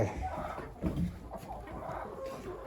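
Hens clucking softly in a dense, busy background of farmyard noise, with brief bursts of louder chatter among the birds.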